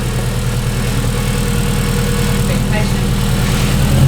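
A rebuilt turbocharged Datsun engine runs cold and steady with a lumpy, rattling idle, loud and close throughout, while a voice speaks briefly over it.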